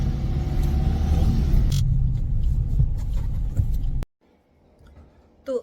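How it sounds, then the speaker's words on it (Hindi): A car rolls fast down a steep hill road near the Saputara hill station, a loud continuous road rumble and engine drone that cuts off abruptly near the end, leaving only faint quiet noise. "अभी जो रास्ता है पूरा ढलान वाला रास्ता है, इसीलिए गाड़ी थोड़ा फास्ट में नीचे जा रही है।"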